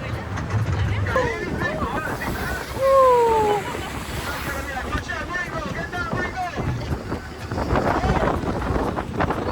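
Strong wind buffets the microphone on the open top deck of a double-decker bus in Miami, a loud continuous roar with gusts throughout, while voices talk underneath it.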